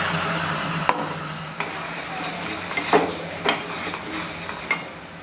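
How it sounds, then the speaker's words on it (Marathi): Ground peanut and chili paste sizzles in a ghee tempering, a steady frying hiss broken by repeated sharp scrapes and knocks of a spoon stirring against the pan. "यामध्ये मी वाटलेले शेंगदाणे आणि मिरचीचे वाटण टाकणार आहे"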